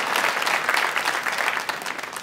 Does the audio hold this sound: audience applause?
yes